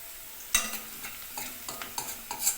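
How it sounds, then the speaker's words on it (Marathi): Onions frying in a pan until browned, with a series of spoon scrapes and taps in an uneven rhythm over a gentle sizzle. "कांदा असा लाल होईपर्यंत भाजून घ्या"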